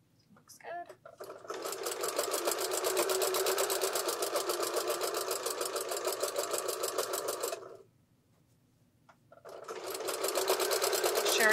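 A sewing machine stitches a baby taggie blanket with a steady rapid rattle for several seconds, pauses briefly, then starts up again, with a low hum underneath.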